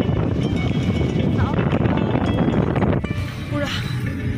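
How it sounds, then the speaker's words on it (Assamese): Strong wind roars and buffets the microphone during heavy rain while people sit in a car. The rush stays loud and steady, then eases slightly near the end, and a voice talks underneath it. "মোৰ মুখে পৰি আছে পুৰা বতাহ"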